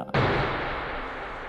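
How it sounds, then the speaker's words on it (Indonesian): A single pistol shot from a gangster film scene bursts out sharply after a brief quiet, then rolls into a long booming decay. "ia pun langsung menembak Cyrus dan seketika tewas di sana."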